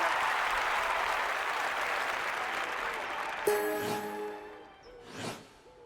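A crowd at the clay pigeon shooting event in the London 2012 Olympic video game applauds steadily, then the clapping drops away under a short musical sting and whoosh.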